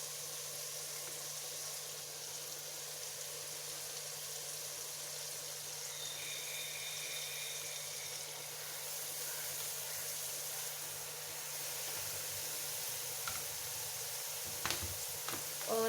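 Fenugreek leaves sizzle in hot masala with a quiet, steady hiss, a few faint clinks and stirs near the end.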